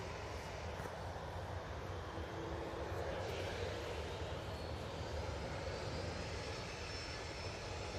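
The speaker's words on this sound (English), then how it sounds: "Ryanair 73 lined up ready to go." Ryanair Boeing 737 jet lined up for departure at Manchester Airport, heard from a distance as a steady, broad engine roar that holds even throughout, with no clear rise or fall.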